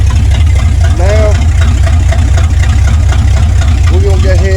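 A car engine fitted with a carburetor and spacer idles steadily with a low, constant rumble throughout, while someone talks over it.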